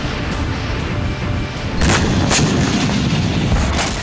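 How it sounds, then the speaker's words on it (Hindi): Gunfire in battle at Soledar during the Russia-Ukraine war, a dense continuous roar of distant shooting and artillery with several sharper bursts cutting through, loud and sustained. "दोनों देशों के सैनिकों के बीच डायरेक्ट गन फाइट हो रही है।"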